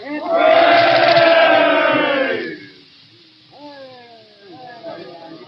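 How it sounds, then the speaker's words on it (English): A crowd of soldiers gives a loud, sustained group cheer for luck, ringing with a slightly tinny, old-recording tone, then drops away into a few thin voices calling out. "And now a cheer for luck. All together."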